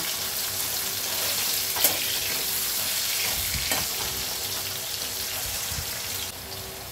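Potatoes frying in a pan keep up a constant sizzle while a spoon stirs them. A few scrapes and knocks against the pan stand out now and then, all close and fairly loud, and no one talks.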